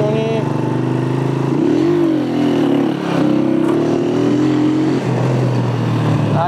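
A faulty motorcycle engine revs and drones close by, its pitch rising and falling with a couple of brief dips, steady and loud throughout.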